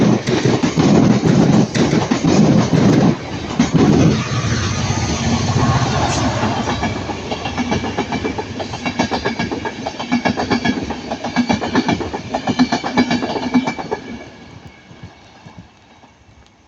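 Mark IV passenger train set passing at Ardwick, Manchester: loud rumbling rush with rhythmic clickety-clack of wheels over rail joints, gradually fading as the carriages roll by.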